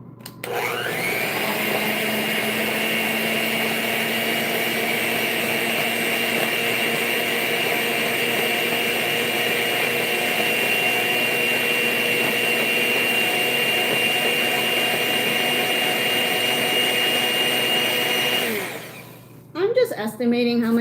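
An electric mixer runs steadily for about eighteen seconds, beating cake batter as sugar is added in a home kitchen, then cuts off near the end.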